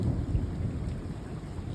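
Low rumbling thunder rolls steadily through a severe thunderstorm with damaging winds in the Chicago area, a continuous deep roar blended with rain and wind noise, no voices.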